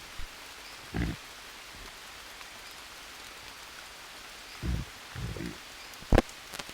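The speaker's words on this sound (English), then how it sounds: "rain is still going." Steady rain falls in the jungle survival game Green Hell, a soft continuous hiss broken by a few dull thumps and a sharp knock near the end.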